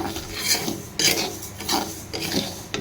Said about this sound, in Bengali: আমি কিছু মুগ ডাল এখানে ভেজে নিচ্ছি।